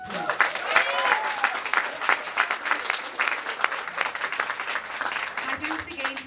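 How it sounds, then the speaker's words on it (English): Audience applause at a girls' hockey tournament, steady dense clapping from a crowd lasting several seconds at full strength. "Please can we give her a round of applause."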